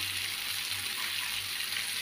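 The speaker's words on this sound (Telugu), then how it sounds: "ఇప్పుడు ఆయిల్ వేసుకున్నాం." Cooking oil poured into a pot on the stove for a fish curry gives a steady, soft hiss that runs unbroken for about two seconds with no talking.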